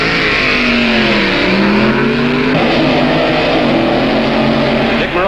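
A Corvette and a handicap dragster roar off the line together in a drag race at the 1966 NHRA U.S. Nationals, loud sustained engine wail with rising pitch sweeps as they accelerate.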